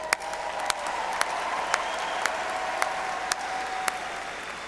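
A large audience at a Texas State University 2024 graduation ceremony applauds in a steady, even wash of clapping that fills a big hall, with faint regular clicks over it.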